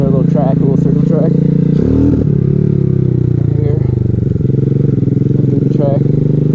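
Small Grom-clone Vader Gen 2 pit bike with a PWK Powerjet 26mm carburetor, ridden on a small circle track; a steady loud engine drone with rises and falls in pitch and a brief clatter, voices over it.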